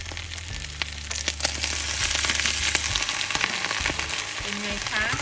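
Eggs with wild garlic sizzle and crackle steadily in a hot pan, a close, continuous frying hiss with occasional stirring scrapes.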